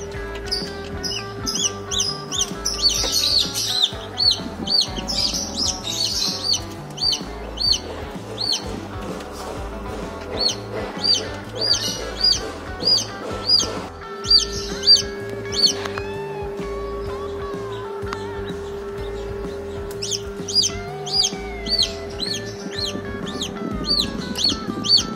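Several Golden Chicken and jopel crossbred chickens cluck and chirp continuously over a steady low hum, with sharp high peeps scattered throughout.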